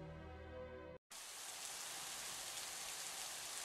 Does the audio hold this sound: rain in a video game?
yes